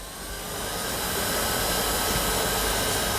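On its second speed setting, a Jisulife Sun Life 1 umbrella fan spins up into a loud, close, continuous whoosh and whine, rising briefly at the start and then holding steady.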